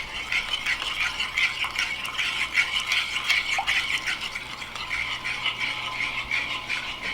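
Seasoned chicken breast being mixed in a bowl, a steady close rattling and scraping that runs continuously with no talk.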